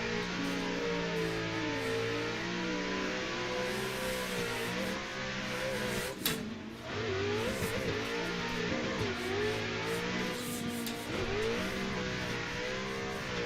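A BDC V6 drift car in Assetto Corsa at Englishtown, engine droning and revving up and down continuously with wavering pitch, brief dips off throttle, tires adding a hiss underneath throughout.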